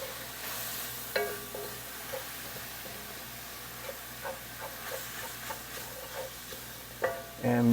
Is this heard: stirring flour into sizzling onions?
yes